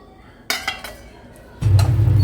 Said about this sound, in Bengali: এটা একটা ভারী চাপা দিয়ে দিই, কারণ প্লেটটা নড়বড় করে তো